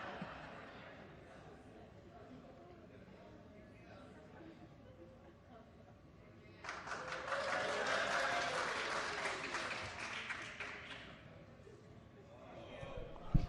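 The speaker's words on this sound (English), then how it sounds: "give me a round of applause" A round of applause erupts in a state legislative chamber during floor debate on an amendment, rising abruptly over murmured voices and lasting about four seconds before settling back into room chatter.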